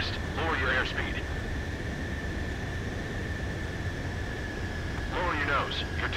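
An F-14 Tomcat jet in Ace Combat 7 on its landing approach, a steady engine whine and rushing hum throughout, with radio voices speaking over it near the start and end.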